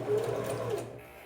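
Sewing machine stitches a French seam in fabric, a brief close mechanical whir of rapid needle strokes lasting about a second before stopping, with no voice over it.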